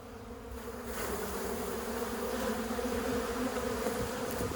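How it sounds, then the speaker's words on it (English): Honey bees buzz around a hive frame close up, a dense, steady droning hum that swells slightly and holds throughout. "so we already got some bees in here"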